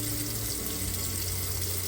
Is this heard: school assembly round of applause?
no